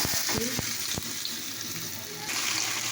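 Water poured into a cooking pot over a half-cooked dish as it is stirred; a steady, hissing splash runs throughout, with a few knocks near the start and a louder swell toward the end.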